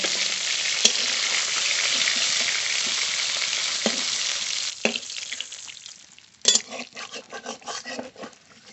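Tengra river fish frying in hot oil, a steady crackling sizzle that drops away midway, then clatters and knocks of a spatula against the pan over quieter bubbling.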